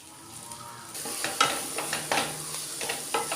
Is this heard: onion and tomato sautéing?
yes